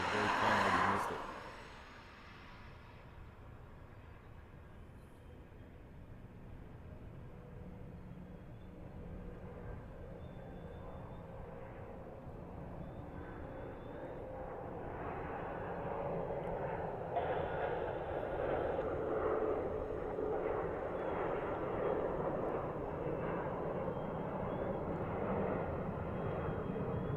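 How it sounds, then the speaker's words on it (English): A Hawaiian Airlines jet, Flight 78 bound for LA, takes off from Honolulu. A brief loud burst opens, then a distant, steady jet roar builds slowly and broadens toward the end. "that was Hawaiian Flight 78 heading off to LA"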